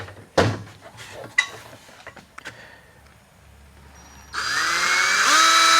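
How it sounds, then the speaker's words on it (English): Power drill boring holes in the trunk panel of a 1979 Cadillac DeVille for tail light filler panels. A few handling knocks and clicks come first, then the drill whines steadily up close to the end. "just drill where the dots are."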